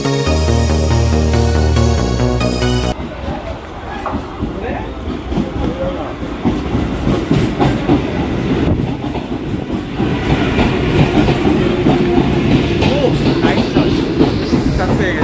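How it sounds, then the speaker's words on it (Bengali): A train pulls into Thakurnagar station on a route toward Sealdah, with a loud, continuous rumble and clattering wheels that carries on to the end, after a brief burst of other sound at the start. "ট্রেন চলে এসছে আমাদের"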